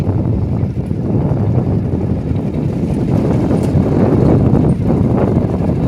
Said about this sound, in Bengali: বন্ধুরা আমরা তো বাইকে উঠে গিয়েছি যাচ্ছি